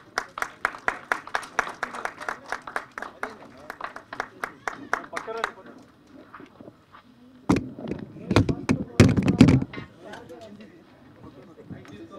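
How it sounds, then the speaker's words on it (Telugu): Audience at a film pre-release event claps in a crisp, rhythmic burst that thins out, then a louder, denser wave of applause swells near the end, with speech in between. "గట్టిగా చప్పట్లు ఒకసారి ప్లీజ్"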